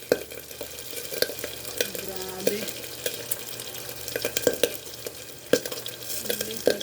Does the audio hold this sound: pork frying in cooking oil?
yes